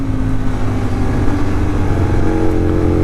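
A carburetted engine running steadily at idle while its mixture is adjusted, the exhaust giving a continuous loud rumble with a low, even throb and no voices.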